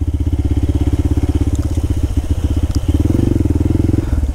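Close, loud motorcycle engine chugging with a rapid pulsing beat as the bike crawls over a rough forest trail near a waterfall, with a brief throttle swell toward the end.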